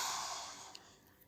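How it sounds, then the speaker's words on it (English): One long, forceful open-mouthed exhale, as in the lion's breath yoga breathing exercise, rushes out close by and fades away. "or lion's breath"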